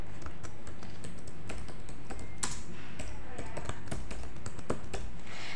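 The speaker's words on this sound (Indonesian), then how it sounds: "Saya ketikkan terlebih dahulu ya untuk judulnya nih." Someone types a title in Microsoft Word on a computer keyboard, producing steady, close clicking keystrokes in an irregular rhythm with no talking.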